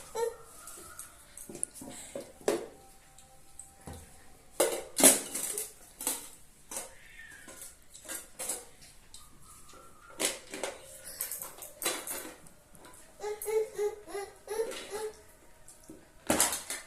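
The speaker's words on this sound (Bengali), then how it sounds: "এবার আমি মিশিয়ে দিচ্ছি, শেষে করে দিচ্ছি, সব কিছু করে দিচ্ছি, ঘুরে দিচ্ছি" A spoon stirs a thick mixture studded with dried fruit in a pot, giving repeated scraping and clinking strokes against the metal in an irregular rhythm, close and moderately loud, with no talking.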